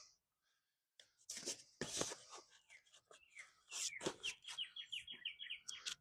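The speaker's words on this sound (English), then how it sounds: "Birds are chirping right now" Birds chirping outdoors at a backyard inground pool during liner installation, a run of bright, rapid repeated tweets toward the end following scattered rustling and handling noises, moderately close.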